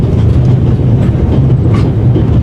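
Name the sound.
train running on rails in video game The Raven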